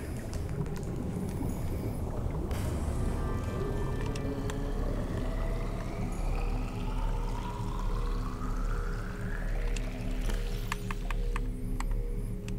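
Water filtration machine in the Subnautica underwater survival game, a steady close watery churning hum with a rising whirring tone and occasional clicks, no talking.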